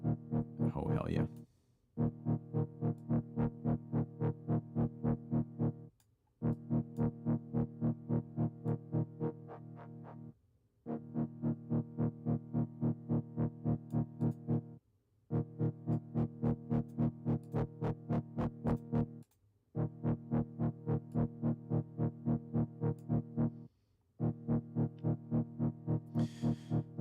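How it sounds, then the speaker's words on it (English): A heavily distorted, buzzy synth beat repeats in steady bars, with brief gaps between phrases; no talking over it. "So let's put in a distort effect."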